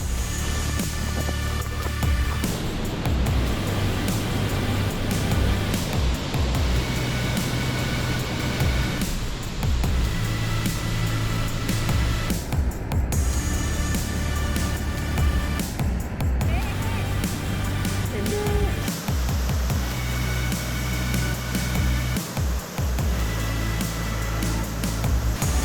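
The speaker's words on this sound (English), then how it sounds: "Look how close to the waterfall we are." Continuous, loud, broadband roar of El Pailon del Diablo waterfall in Banos, Ecuador, heard from very close on a path beside the falls, steady throughout with faint voices in the background.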